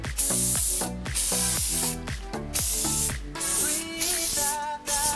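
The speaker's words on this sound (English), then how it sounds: "It's important that we don't spray too much because else it will get cracked up." Hairspray is misted onto curled hair in several short hissing bursts over steady background music.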